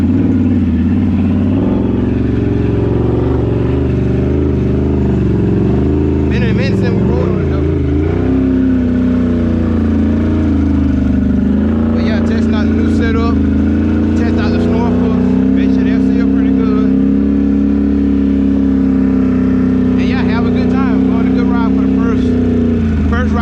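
A Can-Am Outlander ATV on new wheels and tires rides a private dirt test trail, its engine droning steadily close by with a few revving swells and dips, and speech is heard over it at times.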